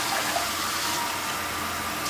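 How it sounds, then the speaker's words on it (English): Water is poured into a saucepan to cook white rice, a steady close splashing and hissing flow that continues evenly throughout. "So first I'm going to put the water."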